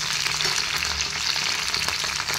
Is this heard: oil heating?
yes